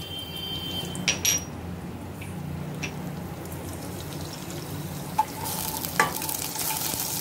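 Cumin, mustard seeds and shahi jeera sizzle steadily in hot oil for a Hindi-language veg pulao, a close, continuous frying hiss with a few sharp clinks and pops scattered through.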